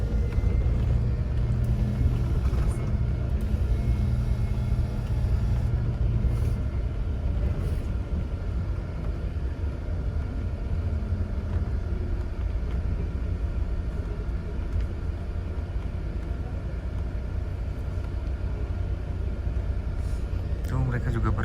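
Buses pulling into Terminal Bersepadu Selatan, Kuala Lumpur, make a continuous low rumble of idling and moving engines, with faint bursts of background activity throughout.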